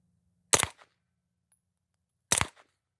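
Two suppressed shots from a SilencerCo Omega 9K on a pistol at an outdoor range sound about two seconds apart, each a short sharp crack with quick decay against quiet.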